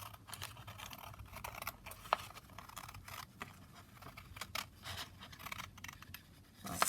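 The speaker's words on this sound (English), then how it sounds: "I just need to kind of trim it across here in the first instance" Scissors trim paper for a junk journal pocket, producing quiet, repeated snips and crisp paper scratches close up, with no talking.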